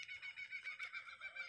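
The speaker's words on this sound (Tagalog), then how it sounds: "Ang ingay talaga ng mga ibon dito." Noisy birds call outside a house in Northam, near Perth, Australia, in a faint, dense chorus of repeated chirps that pulse steadily in a quiet outdoor setting.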